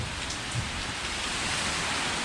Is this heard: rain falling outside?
yes